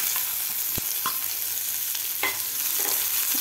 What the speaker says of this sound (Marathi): कांदा सुद्धा आपल्याला 2 मिनिट व्यवस्थित फ्राय करून घ्यायचा आहे।